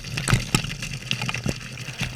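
Water gushing and splashing out of uncapped PVC irrigation pipe, irregular spurts and bursts with sharp splatters, close and fairly loud, alone without talk.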